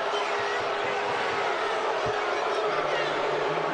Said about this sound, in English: the crowd obviously not real happy, as you could tell with that call